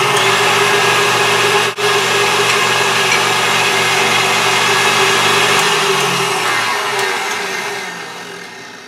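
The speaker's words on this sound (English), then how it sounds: "your whisk attachment and beat these on a high speed until they're foamy" An electric mixer with a whisk attachment whirs at high speed beating egg whites, a loud, close, continuous drone that briefly dips once and then slowly winds down near the end.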